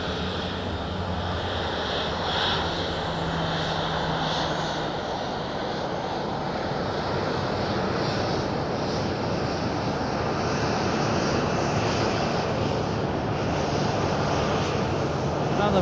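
Ryanair airliner engines roar steadily at Madeira Island Airport in strong wind, a loud continuous wash of jet noise that holds for the whole stretch with no pauses.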